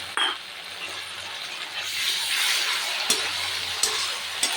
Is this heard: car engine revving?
no